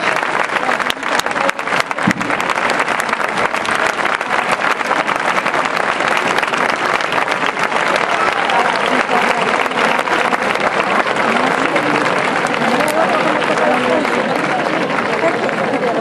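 Sustained, loud audience applause for a cornet band at an evening concert, dense clapping with crowd noise continuing steadily throughout.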